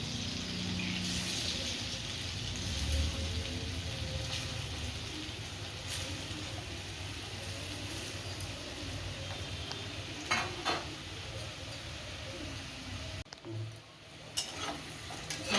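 Pieces of chana dal dhoka fry in a kadai of oil with a steady, soft sizzle throughout, joined by a few faint stirring taps near the end.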